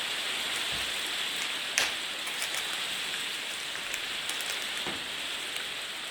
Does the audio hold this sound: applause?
no